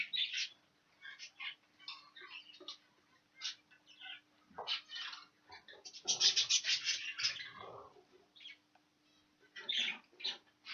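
A grey-green cock budgerigar moves restlessly in a wire show cage, giving irregular scratchy scuffles, flutters and soft chirps in bursts separated by short pauses, close by and fairly quiet.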